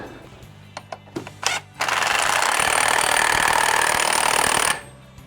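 A few short clicks and taps, then a loud, sustained rattling burst from a power tool tightening the nut on a Jeep driveshaft, hammering steadily for about three seconds before stopping abruptly.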